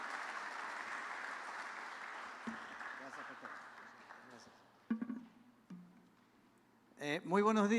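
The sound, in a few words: applause welcoming the Gedeon Ministry guests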